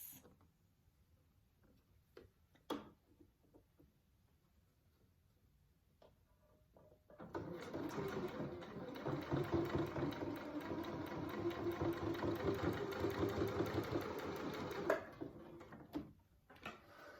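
After a quiet start with a few small clicks and handling noises, a sewing machine stitches a fabric face mask in one continuous fast whirring run of about eight seconds, close and fairly loud, then stops, followed by light clicks.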